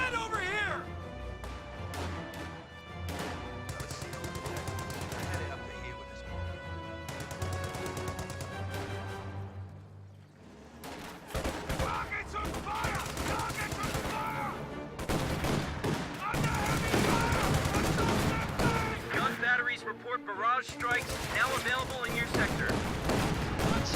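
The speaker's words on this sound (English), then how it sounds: "AT guns move up to fire on the Panzer II." Anti-tank guns fire at a Panzer II in a strategy video game, with scattered gun reports mixed into a dense bed of game music and effects while a commentator talks throughout.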